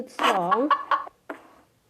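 A chicken in the horror video game Evil Nun 2 gives a few close, loud clucks, with a drawn-out warbling call followed by shorter bursts and a final cluck after a brief pause.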